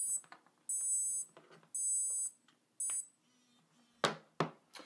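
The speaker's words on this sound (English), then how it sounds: "within a few seconds, ChargerLeash will sound an alarm, alerting you to pack your accessories away" A ChargerLeash charger alarm beeps in repeated high, shrill bursts with short gaps between them, followed by two sharp clicks or knocks at the end, close and fairly quiet overall.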